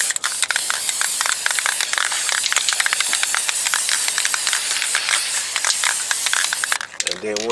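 An aerosol can sprays guide coat onto car bodywork during dent repair, a loud continuous hiss with rapid pulsing bursts, lasting several seconds before stopping, followed by a brief voice.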